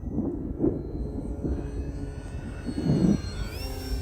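Full-size aircraft pass overhead near a field where a Durafly Tundra V2 RC plane is flown, a steady low engine rumble with swells, a faint high whine rising near the end.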